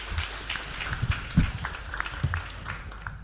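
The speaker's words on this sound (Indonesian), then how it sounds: "ayo kita tepuk tangan lagi lebih meriah" Audience applause at a university new-student orientation event, heard as scattered, fairly faint clapping with uneven bursts across a few seconds and no speech over it.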